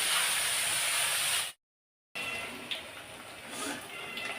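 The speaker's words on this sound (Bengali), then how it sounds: "এই যে আমাদের পকোড়ি হচ্ছে, পেঁয়াজ দিয়ে পেঁয়াজ পকোড়ি" Onion and green chili pakoras frying in hot oil, a steady broadband hiss of bubbling oil that cuts out for a moment and then resumes with small crackles and spits.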